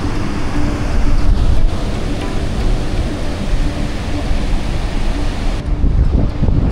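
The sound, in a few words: sea waves and wind at Lipit Beach, Baler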